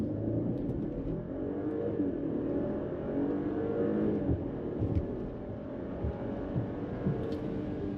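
A 2025 Audi Q8 accelerates hard from a standstill in Eco mode at night, its engine rising in a steady, building roar heard from inside the cabin, continuous and moderately loud with no talking.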